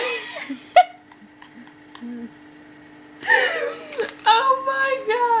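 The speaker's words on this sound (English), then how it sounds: "Just because I hiccup funny." A person gives one sharp, funny-sounding hiccup early on, followed after a pause by giggling, laughter and voices talking close by.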